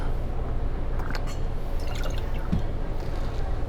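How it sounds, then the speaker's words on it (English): Passion fruit simple syrup poured into a measure for a Hurricane cocktail, a soft trickling pour over a steady background hum, with a few light drips and clinks of glass. "Got a nice passion fruit simple here as well. We're going to do an ounce of that."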